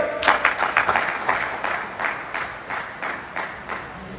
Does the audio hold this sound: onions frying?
no